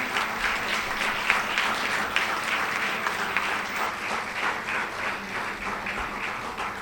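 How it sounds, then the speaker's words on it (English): A convocation audience applauds steadily, a dense wash of many hands clapping at once that holds at an even, loud level throughout. "Let us all give us a warm round of applause"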